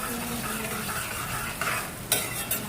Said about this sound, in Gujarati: 2 મિનિટ તળવા દેવાનું